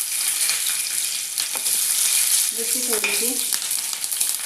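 Green chillies fry in a little oil in a kadhai with a dense, continuous hiss and crackle, loud and close, while a voice speaks briefly over it.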